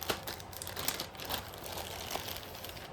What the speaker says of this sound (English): I generally just keep them in a plastic bag.